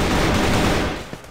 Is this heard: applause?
no